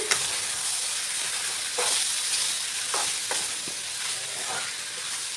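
Tomatoes stirred into a cluster bean curry cooking in a pan: a steady frying hiss with several sharp scraping strokes of the spoon against the pan, close and fairly loud.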